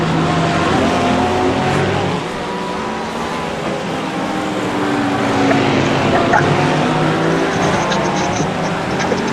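LMP2 prototype race car at Sebring during a 12-hour endurance race, its engine note building and shifting as it passes close by, a sustained loud roar heard over continuous track noise.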